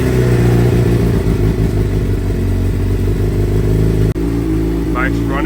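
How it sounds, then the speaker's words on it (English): A Suzuki GSX-R 750 motorcycle engine, rebuilt after a crash, idles steadily and loudly up close, a constant rumbling throb with slight clattering, briefly dipping once near the end. "Bike's running and it sounds good."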